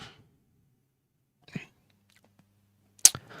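A person coughs during a live football commentary on Blackburn Rovers versus Leeds United, a few short, close bursts, the loudest near the end, separated by quiet gaps.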